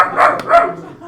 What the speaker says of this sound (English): she's barking at the cat